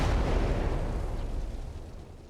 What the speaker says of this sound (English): I'm going to drop some artillery on B.